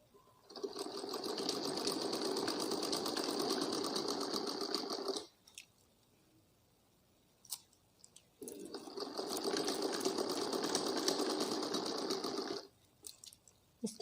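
A sewing machine stitches an umbrella frock in two long, steady runs of about five seconds each, separated by a quiet pause with a few faint clicks, loud and close.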